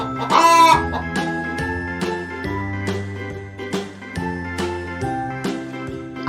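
A hen clucks in a short, bright burst near the start, set against a steady, tinkling children's music backing that carries on throughout.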